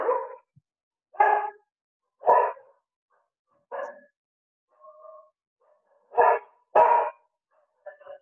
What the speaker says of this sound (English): my dog started barking here